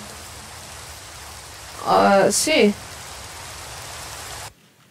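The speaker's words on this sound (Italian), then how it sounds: "Ah, che fastidio la pioggia." Steady hiss of rain falls in a video game, a single voice speaking briefly over it midway before the rain cuts off abruptly near the end.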